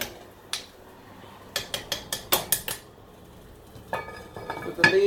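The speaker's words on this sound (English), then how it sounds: "get that a nice stir" A spoon clinks and scrapes against a metal pot while gumbo is stirred, giving a run of sharp, close metallic taps and knocks in a quick rhythm, then quieter clatter over a low kitchen background.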